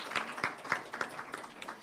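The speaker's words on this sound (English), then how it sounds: "Give her another round of applause" Audience applause at a government press conference, moderate clapping heard from a short distance with distinct individual claps rising above a softer patter.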